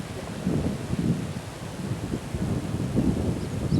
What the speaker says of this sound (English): the wind's blowing, and it's beautiful